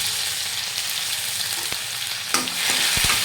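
Ginger-garlic paste and dried chillies frying in hot oil, a dense, close sizzle with a few sharp scrapes and taps of a spoon near the end, loud and steady with no talk.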